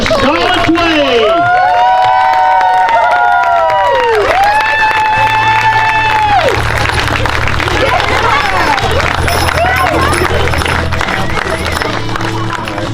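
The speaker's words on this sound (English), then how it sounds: "Big round of applause for Scarletts Way." A crowd at an outdoor casting event for military amputees claps and cheers. Rising, sweeping whistles and shouts ride over loud, continuous applause and crowd noise.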